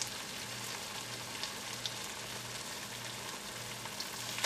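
Vegetable manchurian balls sizzle steadily in a hot pan, a continuous bright crackle of frying oil that stays close and even throughout with a faint low hum beneath.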